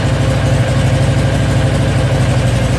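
A Predator 670cc engine runs steadily on an electric fuel pump at about 37 degrees, giving a loud, close, continuous low idle drone with a faint pulsing rhythm and no talk.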